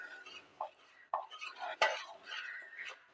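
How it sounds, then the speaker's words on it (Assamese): Pitha batter being mixed with ghee in a bowl by hand or spoon, giving soft, intermittent stirring and scraping sounds with a few light knocks, quiet and close. "এতিয়া আকৌ এবাৰ এইদৰে গোটেইখিনি মই মিলাই ল'ম।"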